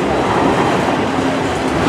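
Norfolk Southern autorack freight cars roll past close by with a loud, continuous rumbling roar and rattling wheels, no voices.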